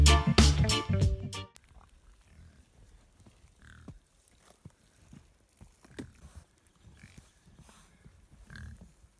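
Pigs grunt softly in snow at feeding time, a few scattered low grunts and snorts close by in a quiet outdoor setting, after a short burst of loud music at the start.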